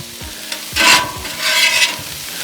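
Tortillas flipped on a mesquite grill hiss and sizzle loudly up close, two surges of frying crackle with light scraping and clatter in between.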